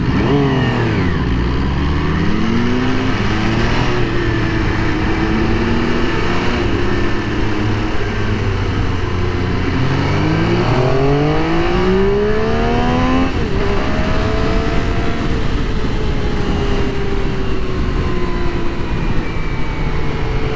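A 2024 MV Agusta motorcycle ridden at a demo day, its engine loud and close, revving up and down through the gears with rising and falling pitch over steady wind roar.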